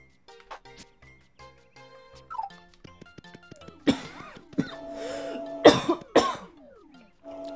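A few sharp, raspy coughs burst out near the microphone after a stretch of faint clinks and soft background sounds, then fade.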